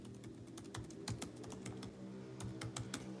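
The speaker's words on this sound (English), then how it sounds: "Oh, typing away," Quiet, steady keyboard typing, a continuous patter of key clicks with no voices.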